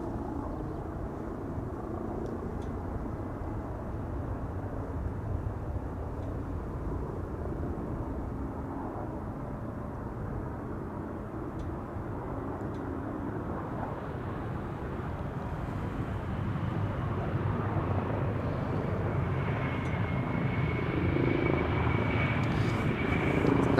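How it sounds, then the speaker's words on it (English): An Embraer 175 arriving from Bergen at Amsterdam Schiphol Airport gives a steady, distant engine rumble that swells louder over the final seconds, with no voices. "Embraer 175 arriving from Bergen coming in."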